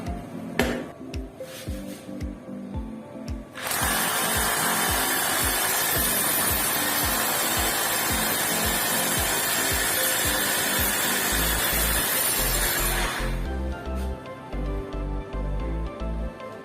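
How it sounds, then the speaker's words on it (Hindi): An Ingco 800W rotary hammer drill runs continuously for about ten seconds with a loud, harsh, steady roar, preceded and followed by softer rhythmic tapping and handling sounds. "ये जो रोटेटरी हैमर ड्रिल है"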